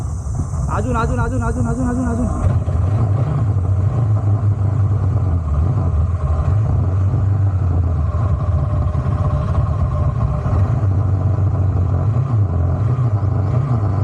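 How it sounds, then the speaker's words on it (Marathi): A motorbike engine runs continuously after a push start, a loud, close putter with slight wavering in pace, with a brief chirping noise over the first couple of seconds. "गाडी तर चालू झाली"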